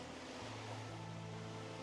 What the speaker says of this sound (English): there's a lot of water flowing, so the waterfalls are better